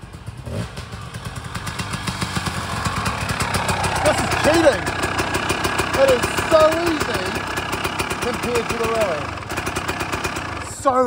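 A Yamaha Tenere 700 motorcycle on a bush trail runs with a close, pulsing engine chug that rises and falls with the throttle, with clatter and rattles mixed in and a voice talking over it.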